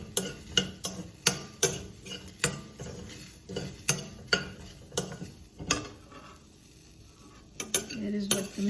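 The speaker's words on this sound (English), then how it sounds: "Let's mix the spices again." A spoon clinks repeatedly against a bowl while spices are mixed with Himalayan pink salt, sharp irregular metallic taps close by, pausing briefly before resuming.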